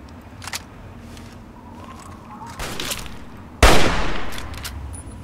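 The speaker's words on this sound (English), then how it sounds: "get out my own hunting rifle" A hunting rifle fires once in Fallout 3, a single sharp, loud crack late in the moment with a short decaying tail, after quieter scattered game sounds.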